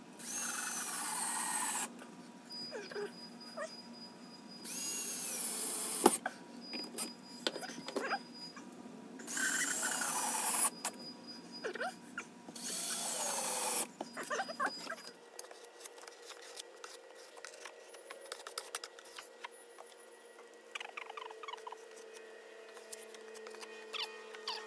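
Power drill driving screws while a pellet stove is installed in place of a corn stove: several whirring bursts of drilling amid background noise, then a steadier hum for the remainder, no speech.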